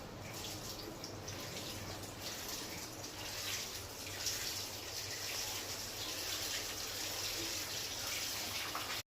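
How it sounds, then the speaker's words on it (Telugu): Water runs continuously from a tap while a puppy is bathed, a steady low splashing flow with faint dripping, heard alone throughout. "మోటయానికి స్నానం చేపిస్తున్నాము, బ్రష్ చేసుకుంటుంది."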